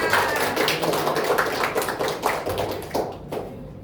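A classroom of students clapping their hands during a microteaching lesson, with quick irregular claps close by that ripple along for a few seconds before trailing off.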